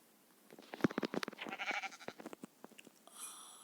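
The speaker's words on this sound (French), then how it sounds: "Le petit mouton est mort." A sheep in Minecraft bleating and dying, heard as a burst of short, close, choppy bleats and hit sounds followed by a fading tone, with no talking.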